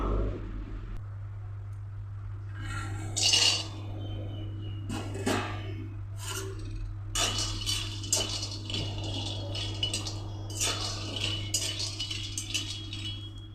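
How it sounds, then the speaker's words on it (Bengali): Peanuts dry-roast in a pan. Scattered rattles and light clinks come in irregular bursts over a low, constant background hum, with no talking. "এখন বাদাম ভেজে নেব।"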